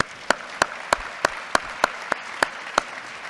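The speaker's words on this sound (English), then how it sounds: "So let's clap for that, y'all." Steady rhythmic clapping from an audience at a Fredericksburg gathering celebrating the new Martin Luther King Jr. Memorial Bridge, about nine sharp, evenly spaced claps in unison over a low room murmur.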